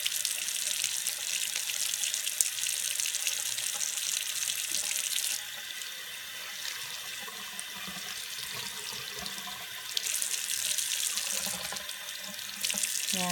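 A makeup brush is rubbed and scrubbed under a running tap in a sink. The water hisses steadily and close the whole time, and its tone shifts partway through as the brush moves in the stream.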